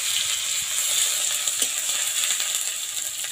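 Garlic paste hitting already-fried onions in a hot pan while cooking Bengali katla fish kalia, giving a steady close hiss and sizzle with faint scraping and clicking of stirring, no talk.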